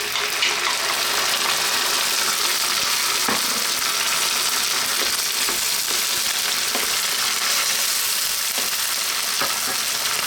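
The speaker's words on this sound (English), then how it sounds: "Simply, we're going to drop in that can of tomatoes." Canned tomatoes hit a pan of onions and garlic, setting off a loud, steady sizzle and frying hiss with a few sharp clicks and splashes of stirring, close up and without talk.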